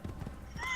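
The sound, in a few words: horse hooves in Assassin's Creed video game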